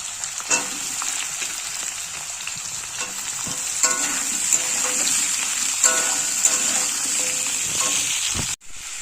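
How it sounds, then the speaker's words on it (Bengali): Potatoes, onion and capsicum frying together in a pan, a loud, dense sizzle with repeated clinks and scrapes of a stirring spoon, continuous and close, with a brief drop just before the end. "আলু, পেঁয়াজ, ক্যাপসিকাম সবই দিয়ে দেবো একসাথে, একবারেই ভেজে নেবো।"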